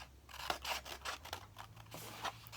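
Scissors snipping through paper up to a score line while making folded gift boxes, a series of quick close crisp cuts with no talk.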